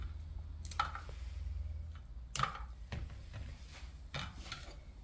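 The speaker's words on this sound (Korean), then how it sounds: "꼭지를 이렇게 해서 다 잘라주세요." Stems are trimmed off chili peppers with a knife, giving a few sharp, separate clicks and taps against a cutting board. The cuts come at irregular intervals over a faint low hum, close and quiet.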